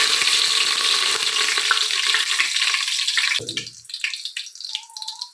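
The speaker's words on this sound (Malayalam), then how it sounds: "ഇതിലേക്ക് കറുവപ്പട്ട, ഗ്രാമ്പു, ഏലക്കൊക്കെ ഇടുകയാണ്." Cinnamon, cloves and cardamom in hot oil and ghee hiss and sizzle loudly and steadily for several seconds. The frying then cuts off abruptly, leaving quieter scattered clinks and a soft splash of water.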